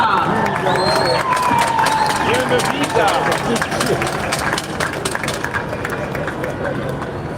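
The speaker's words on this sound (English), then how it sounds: "Give the applause going for Pika." A crowd cheers and applauds at a ribbon-cutting ceremony for the Morant Bay Urban Center in Jamaica, a loud, steady swell of clapping and shouts lasting throughout, with voices mixed in.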